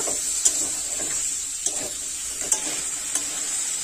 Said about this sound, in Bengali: মশলার সাথে আলু খুব ভালোভাবে কষাই করে নেব।